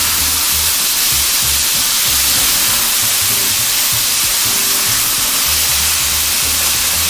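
Beef tips sear and brown in a hot pan, giving a steady, loud, close sizzling hiss that runs without a break, with faint low clatter underneath.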